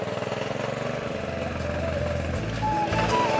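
A small farm power weeder's engine runs in second gear, a steady low throbbing drone with a rising, busier churn toward the end, close and fairly loud, with some faint voices mixed in.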